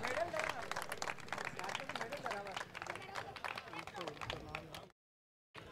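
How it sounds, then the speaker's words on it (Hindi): An audience at a volleyball trophy prize ceremony claps in dense, uneven bursts, with voices under the clapping, then breaks off into a sudden silence before a little resumes. "तालियां बजनी चाहिए दोस्तों।"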